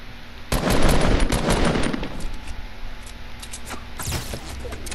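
Rapid automatic gunfire from a squad shooter video game: a dense, loud burst lasting about a second and a half, then a shorter, fainter burst a couple of seconds later.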